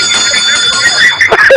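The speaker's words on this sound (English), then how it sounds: "Haruna, you deserve a bell this morning." A bell sound effect rings out on a Nigerian radio morning show, bright and metallic, played loud and close for about a second and a half between stretches of on-air talk.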